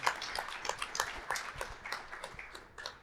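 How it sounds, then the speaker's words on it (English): Faint, thin applause from a small webinar audience, scattered individual claps in an irregular patter that sounds distant and light throughout. "can I get a big round of applause for Elaine and Alana?"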